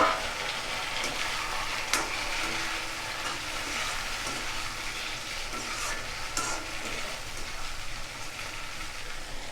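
Medium-cut tomatoes with onions and curry leaves sauté in a pan for an egg and drumstick aviyal, giving a steady, close sizzle with occasional faint stirring scrapes, with no voices.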